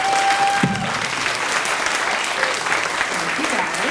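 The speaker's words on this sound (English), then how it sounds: "Let's give a big round of applause to our readers." Bookstore audience at a University Book Store reading applauds the readers, a dense, sustained round of clapping with faint voices calling out underneath.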